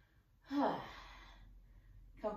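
A single long exhale during a tango prep exercise, made while hinging forward and rounding the spine, rising into a breathy rush and then trailing off softly, with a brief second breath starting at the end.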